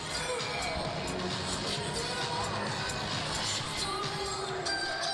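A hockey crowd cheers after a go-ahead goal for Delaware against Pitt, a continuous roar with whoops and shouts, punctuated by regular sharp thumps.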